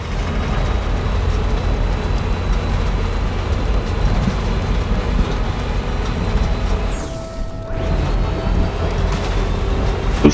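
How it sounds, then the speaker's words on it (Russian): Steady rain and sleet hiss in the video game Death Stranding, a dense continuous wash of falling precipitation that dips briefly near the end before resuming. "Тут снег с дождем идет"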